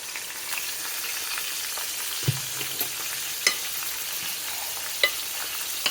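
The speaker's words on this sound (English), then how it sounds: "You hear those frying nicely on medium heat." Steady sizzling of mushrooms frying in hot oil on medium heat, a continuous crackle with occasional sharper pops and a brief clink partway through.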